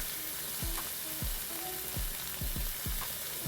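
Pea greens dropped into hot oil with fried ginger and dried chilli, giving a steady close sizzle broken by repeated sharp scraping stirs about every half second.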